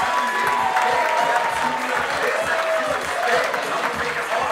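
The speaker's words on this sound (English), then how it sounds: "A big round of applause for our bridesmaid, Sheena Ferdoli" A wedding reception crowd applauds and cheers steadily during the bridal party introductions, with claps and whoops filling the room while voices carry underneath.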